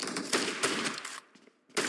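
Shotgun fire in the mobile battle game PUBG Mobile: a dense burst of loud blasts up close, a brief lull, then another blast at the end, with no talk.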